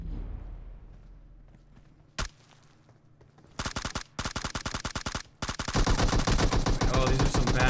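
Gunfire in the mobile battle royale game PUBG Mobile: one sharp shot, then several rapid automatic bursts with brief gaps and a final sustained burst, loud and close.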